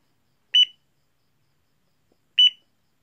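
Two short high electronic beeps from a digital LED cube desk alarm clock, about two seconds apart, clear and close, with silence in between.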